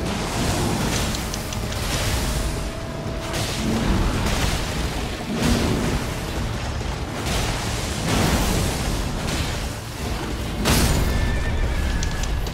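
A horse in the video game Elden Ring neighs and whinnies repeatedly in loud, rough bursts over a dense, rumbling game soundscape, with no one talking.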